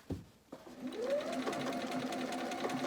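A Bernina sewing machine stitching machine appliqué along a twig shape, a few clicks and thumps at the start, then a steady close whirring run of the motor and needle that continues to the end.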